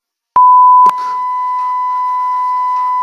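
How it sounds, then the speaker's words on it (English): A censor beep sound effect made in Audacity: a short click, then a loud steady electronic tone that starts abruptly and holds unbroken to the end. "There goes your Censor beep sound."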